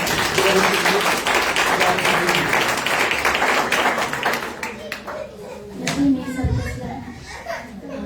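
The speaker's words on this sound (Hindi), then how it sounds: "सो मैं चाहता हूँ हम जोरदार तालियां बजाएं" A church congregation at a New Year meeting clapping loudly, dense applause filling the first half before thinning into scattered claps, with children's voices and chatter mixed in and a voice near the end.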